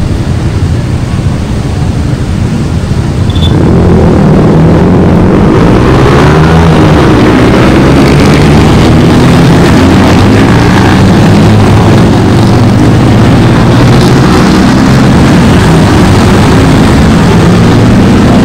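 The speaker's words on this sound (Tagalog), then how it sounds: "ang daming motor guys, ang iingay pa" Heavy engine roar from many noisy motorcycles passing through a street by Rajah Sulayman Park in Malate, Manila, loud and continuous with rising and falling pitch sweeps as bikes go by.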